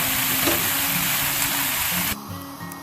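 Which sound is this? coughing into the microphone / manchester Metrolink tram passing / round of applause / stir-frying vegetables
stir-frying vegetables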